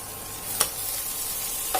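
Pork belly stir-fries in a pan with a soft, steady hiss of frying, broken by two brief spatula clacks.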